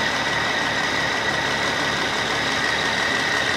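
A car engine idles steadily during an engine decarbonization using tap water, a constant, fairly loud hum and rumble with no revving and no voices.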